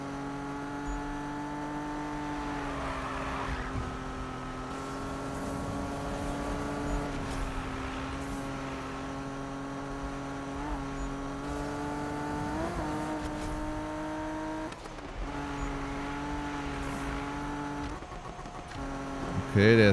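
A race car in the Need for Speed driving game, its engine holding a steady droning tone that shifts pitch as it revs and changes gear, with a brief tire squeal near the end and a voice talking over it.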